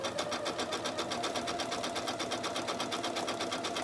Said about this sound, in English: I'm having a lovely little sewing session, finishing off my top tote bag here.